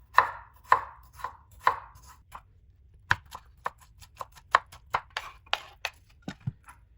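A knife chops cucumbers and tomatoes on a board in crisp, separate strokes, around twenty cuts in an uneven rhythm that quickens toward the end, close and alone.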